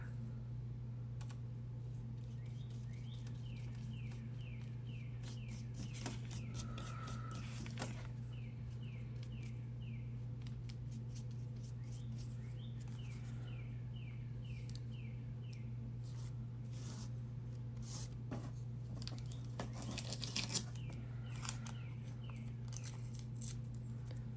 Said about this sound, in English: Just tearing little bits of the same paper to fill in any spaces that I missed.